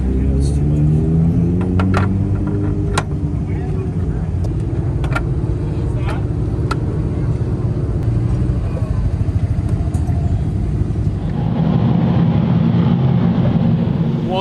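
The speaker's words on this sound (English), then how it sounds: "the Dwarf cars are out there for their A-main event" Dwarf cars roaring around the Grays Harbor Raceway oval during their A-main event, a loud, steady engine drone with repeated sharp revs as cars pass, swelling louder toward the end.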